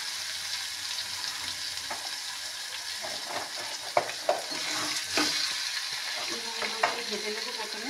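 Eggplant frying with turmeric and salt in a pan, steady sizzle with occasional stirring clinks and scrapes throughout.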